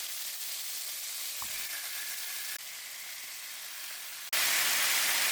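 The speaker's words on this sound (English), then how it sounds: "First thing first, we're going to put the garlic. I like to let them cook like that, like burn a little." Garlic sizzles and fries in oil in a pot as the base for chicken soup, a steady broadband hiss that carries on alone with no talking and swells louder near the end.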